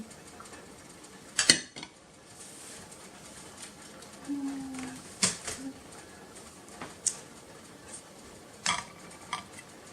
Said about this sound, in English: We're going to call that done and plate it up.